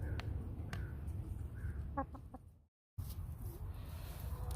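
Backyard chickens cluck in short soft bursts over a steady outdoor hum, with one brief stacked call near the middle, then a moment of near silence before the ambient murmur resumes.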